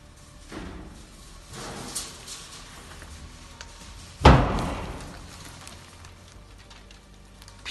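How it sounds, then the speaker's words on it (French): Inside an abandoned prison, a single heavy door slams somewhere at a middle distance with a sharp bang and a reverberant decay, after quiet shuffling and creaks. "on entend un bruit de porte là, clairement"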